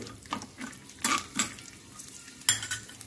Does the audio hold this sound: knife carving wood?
no